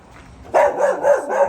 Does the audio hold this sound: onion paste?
no